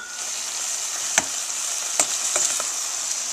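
Shrimp cook in a pan with seasoning mix, giving a bright, even sizzle. A few crisp stirring clicks and taps sound up close, with no one talking.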